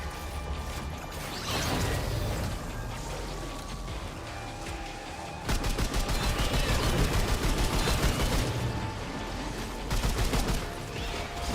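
Rapid, loud gunfire from the video game Remnant 2, with dense bursts of shots and a sharper, faster volley after the midpoint, layered with mechanical clatter throughout.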